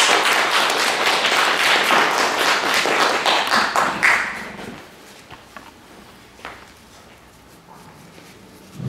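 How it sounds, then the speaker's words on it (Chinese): A lecture audience gives warm applause to welcome a professor, steady clapping for about four seconds that then fades to scattered claps and quiet room noise. "那下面我们就用热烈掌声欢迎马教授讲座。"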